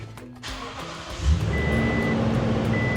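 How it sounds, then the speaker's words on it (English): A Toyota Tundra pickup starts by keyless push-button: a brief whir and catch, then the engine settles into a steady close idle hum. "I'm gonna turn on the truck right now"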